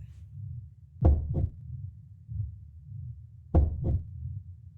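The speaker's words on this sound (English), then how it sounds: "you hear the door is pounding in sync with a heartbeat" A door pounds in a heartbeat rhythm, two paired dull thuds, each a quick double knock, about two and a half seconds apart against a low background hum.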